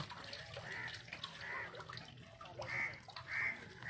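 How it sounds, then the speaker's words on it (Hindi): Water gurgles and splashes as it flows into a cattle trough on a farm in Hasilpur, making a faint, uneven burbling with intermittent louder spurts. "ये जी पानी आ गया माशाल्लाह"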